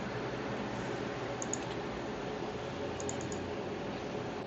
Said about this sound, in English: Press E on the keyboard to bring up the line properties dialog.